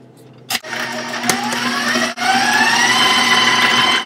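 Electric mixer whirring loudly as eggs are beaten one at a time into butter and sugar for a chocolate layer cake batter, with a couple of sharp knocks and brief dips before the motor pitch climbs and holds steady.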